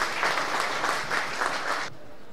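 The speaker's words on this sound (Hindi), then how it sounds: "तालियों से स्वागत किया जाए।" Audience applause greets a first-prize winner among resident doctors at a Hindi fortnight closing ceremony, a steady wash of many hands clapping for about two seconds before cutting off abruptly into quiet.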